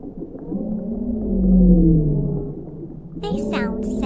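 Baleen whales give deep, mournful, drawn-out calls that rise and fall in a loud, low rumble, followed by a voice talking.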